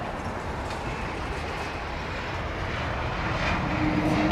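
A UPS cargo airplane at London Heathrow Airport gives a steady, broad jet engine roar that grows slightly louder toward the end, with no talk.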